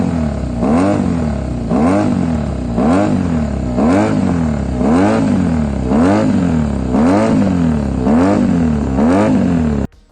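Honda NR500 oval-piston V4 motorcycle engine revved hard in a steady rhythm, about ten sharp blips climbing and falling in quick succession, loud and close with no talk.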